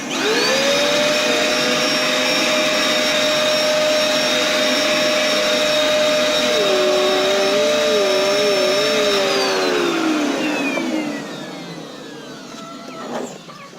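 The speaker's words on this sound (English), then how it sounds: "And I go to vacuum them." A vacuum cleaner runs loud and close while sucking at dry leaves, a steady high whine that wavers in pitch partway through before winding down near the end.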